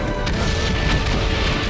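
A heavy artillery blast from the World War I video game Valiant Hearts: The Great War, a dense, loud rumbling boom that fills the whole moment with sustained low-end roar.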